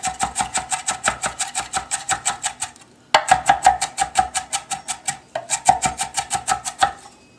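A knife mincing food on a board in a sauce-making session: fast, even chopping taps in three quick bursts separated by short pauses, loud and close, with no talking.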